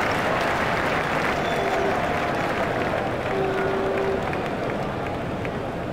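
At an India versus Leicestershire cricket match, the crowd claps after a wicket falls, a dense, steady wash of applause that holds at full strength for the whole stretch.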